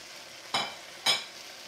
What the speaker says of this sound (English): And stir them all together.